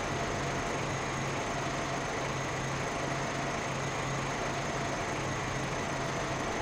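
Forage harvester engine in the farming game Landwirtschafts-Simulator 15, a steady, even mechanical drone with a faint pulsing low hum, running alone without talk for the whole stretch.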